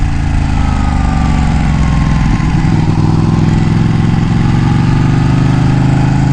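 Stock Ducati Panigale 1199 sportbike with factory exhaust and no tune idling close by, a steady, loud, throbbing engine drone that holds constant with a slight shift partway through and no talking.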